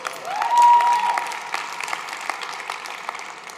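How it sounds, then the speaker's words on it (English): Moderate applause from a crowd at a women's convention, scattered claps growing into a steady wash with a faint whoop or tone early on, fairly distant and even. "you can clap for that"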